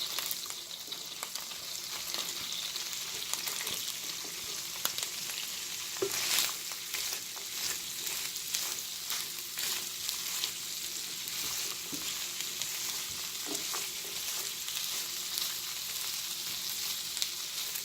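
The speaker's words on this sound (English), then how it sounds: "We're going to add the asparagus. And we're going to stir fry them until done." Asparagus stir-frying in a hot pan alongside shrimp, a steady soft sizzle with occasional scraping stirs and clinks, close and alone with no talking.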